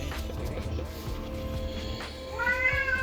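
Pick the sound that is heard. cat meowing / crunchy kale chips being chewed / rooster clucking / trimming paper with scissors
cat meowing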